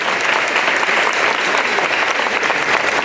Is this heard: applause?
yes